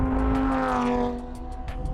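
A Lamborghini mid-engine V10 hums with a strong steady engine tone, then eases off as the note fades and settles lower, with no talk.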